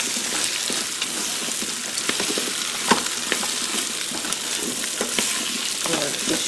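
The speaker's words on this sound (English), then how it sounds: "We're just mixing everything around, getting all of the scrape, you want to scrape the bits up if you have any, off of the bottom." About two pounds of potatoes stirred and scraped in an Instant Pot on sauté mode, a steady close sizzle broken by irregular spoon scrapes and knocks against the bottom of the pot.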